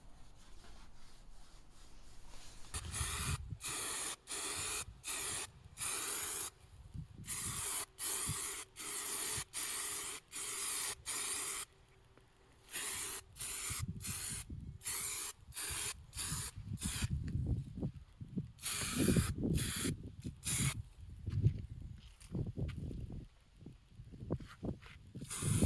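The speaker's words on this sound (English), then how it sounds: "Then we will take it to my paint booth and get the first coat of primer on it." Primer coat sprayed onto a Chevy body part in a paint booth: loud hissing bursts of a spray gun, a second or two each, separated by short pauses over a low background rumble.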